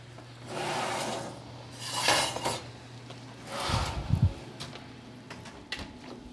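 A zucchini tart in a metal baking pan is pulled from the oven: scraping metal slides, a clatter of pan against rack, and a few knocks over a steady oven hum.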